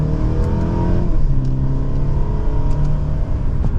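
A 2024 Mercedes-Benz E350 with its smaller engine pulls hard in sport mode through second gear, a steady rising engine drone heard from inside the cabin, loud and continuous.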